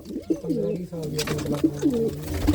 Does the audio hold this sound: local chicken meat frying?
no